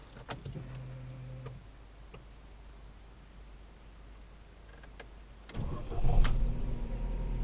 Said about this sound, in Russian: Эта машина заглушена, сейчас заведем.